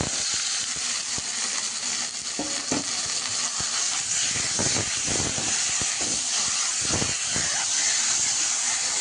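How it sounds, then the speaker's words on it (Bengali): Spice paste frying in oil in a pan, with a splash of water added, for a Bengali home-cooked dish with Bombay duck fish: a steady hissing, steaming sizzle with scattered crackles and stirring scrapes, close and continuous, with no talking. "এখন কিন্তু মশলাটা কষাতে চলছে"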